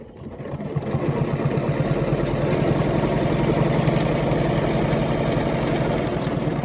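A quilting sewing machine running steadily along a stitch line during ruler-work free-motion quilting, a loud, close, continuous rapid needle chatter with a low motor hum that builds up in the first second and then holds even.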